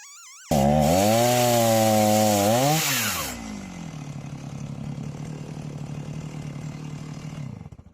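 A chainsaw revs up loudly, then settles into a steady, heavy droning cut as it mills through wood, the engine holding a strained, even tone for several seconds before easing off near the end.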